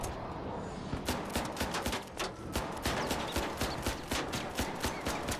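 Gunfire from the Bettina gun in the video game Arc Raiders, a steady run of evenly spaced sharp shots, about three per second, over a dense background rumble, with no talking.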